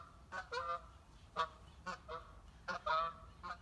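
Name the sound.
geese honking while flying around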